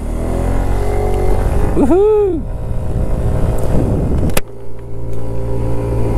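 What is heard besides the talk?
scooter engine accelerating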